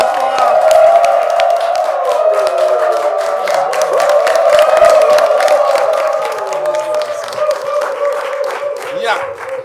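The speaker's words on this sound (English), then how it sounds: "Please, a round of applause for her." A studio audience on a Nigerian talk show claps and cheers as a guest is welcomed, a loud, sustained crowd roar with whoops mixed over a bed of music, easing slightly toward the end.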